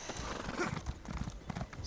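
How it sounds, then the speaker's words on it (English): A horse summoned in an open-world fantasy video game: a quick run of clip-clopping hooves approaching along with a whinny, fairly quiet and close, with no talk over it. "Let's call our horse."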